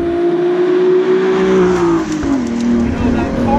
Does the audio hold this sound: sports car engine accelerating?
yes